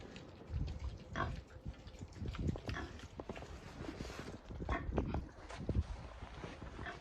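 Piglets grunt and snuffle close by at a new drinker on a farm, with soft irregular snorts and shuffling movement at low level.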